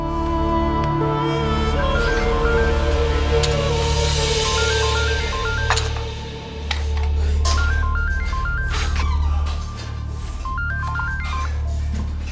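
A series of short dialing beeps repeats in quick bursts over a steady low hum, several rounds of tones spaced a few seconds apart.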